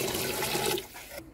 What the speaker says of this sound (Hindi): दो गिलास चावल लिए और 4 गिलास पानी डालेंगे इसमें।